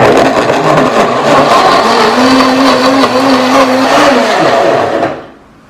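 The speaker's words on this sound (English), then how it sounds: "Okay, so now it's time to blend." A countertop blender whirs through a cauliflower smoothie, running loud and steady with a droning motor pitch that rises slightly midway, then cuts off and fades to silence near the end.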